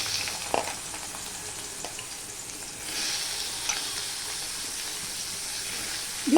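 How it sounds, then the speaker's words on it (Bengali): Potatoes frying in oil in a pan over a low gas flame, a soft steady sizzle with a brief sharper hiss as they go in and swell louder toward the end, no speech. "তাহলে আমি গ্যাসটা ছোট করে দিয়ে আলুটা ছেড়ে দিচ্ছি।"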